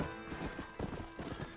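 Horse hooves gallop in Red Dead Redemption, a steady rapid clip-clop of hoofbeats running throughout, fairly close and prominent with no talk over it.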